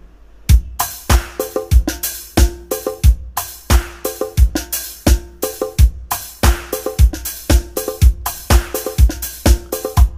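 Octapad SPD 20 Pro pads playing a pattern at a fast tempo, a steady loud groove of punchy kick-like thumps and bright percussive hits repeating for about ten seconds, with no talking.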